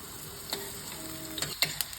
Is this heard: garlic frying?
yes